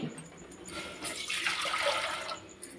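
Water is poured back into a cooking pot for making porridge, a short steady splashing gush that swells and then fades, with no talking.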